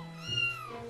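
A cartoon kitten lets out a single drawn-out meow, rising then falling, close and clear with no talk over it.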